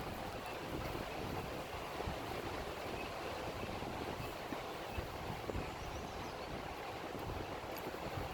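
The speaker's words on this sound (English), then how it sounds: "The wind is kind of really sucking the flame back." Wind blows steadily outdoors and buffets the microphone with a dense, continuous rumbling roar. The noise holds at a constant level for the whole stretch, and no one speaks.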